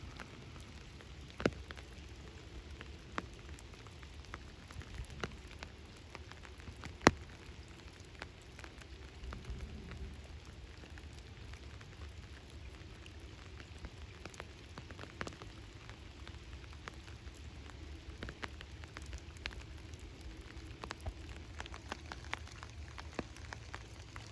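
Steady rain falls outdoors on a cold December day at Lake Greenwood State Park, a soft continuous hiss with scattered drops ticking close by over a low background rumble.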